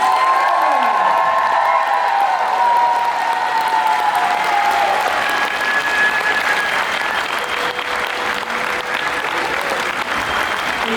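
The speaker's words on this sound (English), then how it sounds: "Everyone, can you give one more big round of applause for all of our dancers today?" A large convention crowd applauds the dancers of a fursuit dance competition, with loud sustained clapping, scattered cheers and whoops, and fading music tones at the start.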